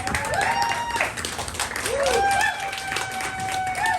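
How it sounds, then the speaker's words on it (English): An audience at a live talk show gives a round of applause, with sustained clapping, cheers and whoops, and voices mixed in throughout. "let's give a big round of applause for Mike Lehman."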